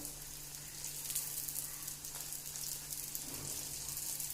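Pappadavada, papad fritters, fry in hot oil with a soft, continuous sizzle and fine crackling under a low steady hum, close by but quiet.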